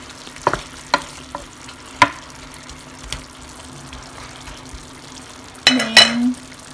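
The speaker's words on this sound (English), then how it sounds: "Then, haluin natin ng konti." Adobo being stirred in a pan after a splash of apple cider vinegar goes in, with a few sharp spoon knocks against the pan and a faint sizzle beneath, then a brief run of stirring scrape near the end.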